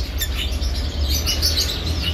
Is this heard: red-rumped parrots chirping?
yes